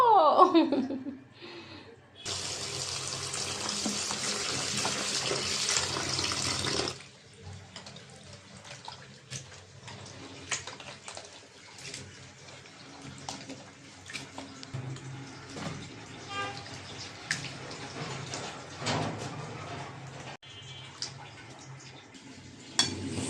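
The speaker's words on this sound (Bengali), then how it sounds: "মাছগুলো ধুয়ে নেব" Small sea fish are rinsed under a running tap, with a steady rush of water for several seconds and then quieter splashing and handling in a sink, while people talk and laugh nearby.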